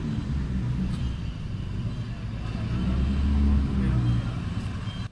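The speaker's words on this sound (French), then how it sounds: "Là, on entend rugir un moteur." A car engine, an Alfa Romeo at a classic car rally, rumbles low and steady, swelling louder near the end as it passes, with faint talk in the background.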